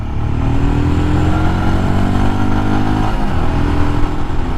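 A 2023 Royal Enfield Scram 411 single-cylinder motorcycle accelerates hard on a gravel road, its loud, steady engine note climbing in pitch through the gears, close by and with no talking.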